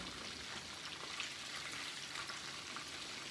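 Cube steak for chicken fried steak sizzles in a frying pan, a faint, even crackling hiss that holds steady throughout with no voices.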